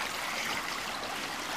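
Water flows and trickles along a stream at an outdoor filming location, a steady close wash of broadband rushing with no voices over it.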